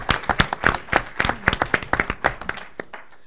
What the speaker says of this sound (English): Just give our students a round of applause for everything that they